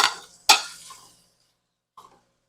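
Shrimp tipped into a pan of fried rice bring a sharp clatter of food and utensil against metal, followed by a brief soft sizzle and a faint later clink, close by with no talking.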